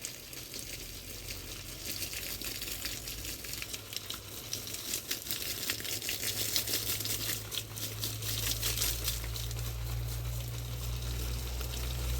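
Water poured onto young plants in garden soil outdoors, a faint, continuous trickling and splashing with light rustling and a low steady hum underneath.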